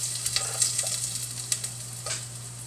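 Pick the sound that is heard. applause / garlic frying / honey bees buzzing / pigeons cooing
garlic frying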